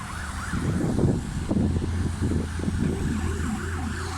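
An ambulance siren wails along Lubelska Street in Chełm, its rising and falling tone riding over the low rumble of nearby traffic.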